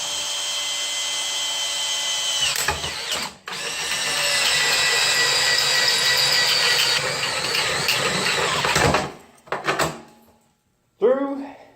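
A hole saw drills through a metal kitchen sink to mount a garbage disposal air button, a loud, steady grinding whine lasting several seconds with a brief pause, then stopping abruptly.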